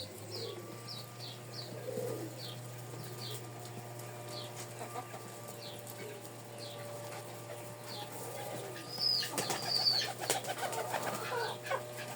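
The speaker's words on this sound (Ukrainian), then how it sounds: "Тут уже голубенятка" Soft, repeated cooing of pigeon chicks rises over a steady low hum, with a few brief chirps and rustles toward the end.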